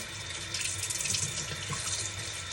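Water runs steadily from a kitchen tap into a sink, a close, continuous splashing hiss with no voices.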